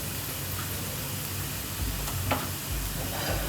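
Masala sautéing in a pan for paneer masala, a steady soft sizzle with occasional stirring scrapes and clinks, close and fairly quiet, with no talking.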